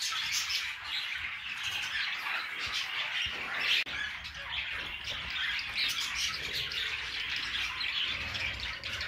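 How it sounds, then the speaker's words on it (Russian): Six caged budgerigars, three males and three females, chatter and chirp nonstop in a dense, bright warble, close and steady with sharp squawks scattered through it. "Вот эти птицы, вот их тут 6 даже, 3 самца и 3 самки."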